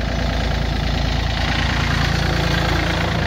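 Yanmar F215D tractor engine idles nearby, a steady, loud diesel chug with even rhythmic pulsing and mechanical vibration throughout.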